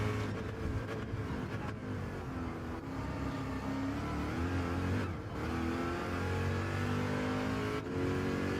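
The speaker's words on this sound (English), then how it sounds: "I gotta stop revving it" A racing car engine in Gran Turismo 7 revs and drones continuously, with harmonic pitch sweeps rising and falling through gear changes and brief dips, loud and steady throughout without speech.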